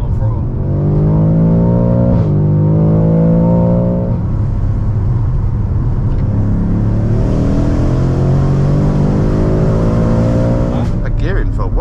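A 1000hp BMW M5 with four-wheel drive accelerates on throttle, its loud engine note climbing steadily through the gears with a brief shift break, while voices talk over it throughout.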